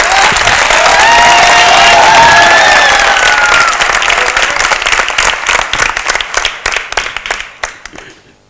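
An audience at a youth cultural program in Rajkot bursts into loud applause with cheering voices, then the clapping thins out into scattered individual claps and fades away.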